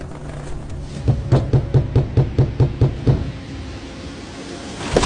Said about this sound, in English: she heard a knock on the door